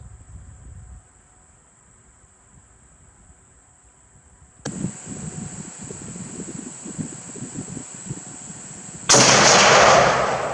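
A K1A1 rifle fired on an outdoor range: one sharp, loud report cracks out near the end after a quiet stretch of low background noise and a steady high tone.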